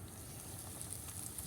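Flour-dredged green tomato slices frying in a pan, a faint, steady hiss of sizzling oil with light crackles and no voices.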